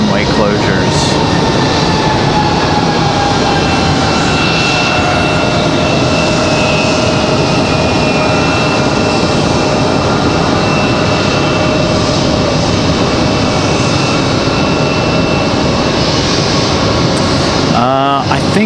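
A fixed-wing jet airliner arrives at Raleigh-Durham International Airport, its engines roaring loudly and steadily for the whole stretch with a rising whine, close and continuous.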